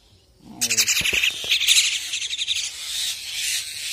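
Several birds in a Sundarban village chirp and call insistently for food, rapid high tweets overlapping in quick bursts, close by, with no talking.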